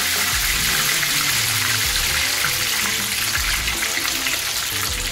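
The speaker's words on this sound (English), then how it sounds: "I'm just gonna add it in the hot oil now." Chicken pieces frying in hot oil for mustard fry chicken, a loud, dense, continuous sizzle and crackle close to the mic with occasional low thumps and bubbling underneath, no talk.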